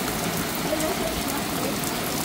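Heavy rain falls outdoors in a steady, dense hiss that stays even and fairly loud throughout, with no clear gaps.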